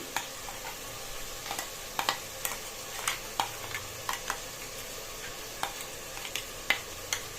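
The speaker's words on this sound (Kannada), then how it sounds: "ಈ ಮಸಾಲ ಜೊತೆ ಮಟನ್ನ ಫ್ರೈ ಮಾಡ್ಕೊಳ್ಳಿ" Mutton sizzles and fries with a ground masala paste in a pan with a steady crackle, punctuated by sharp clicks and taps of a spoon stirring, close and fairly quiet.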